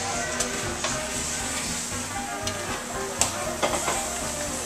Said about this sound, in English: now we kind of stir things up